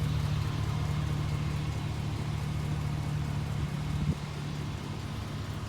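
A lifted 2004 Chevrolet Silverado 1500 Z71 4x4 with a 5.3L engine runs at a steady low rumble. A brief bump near the end drops into a slightly quieter drone, with no talk.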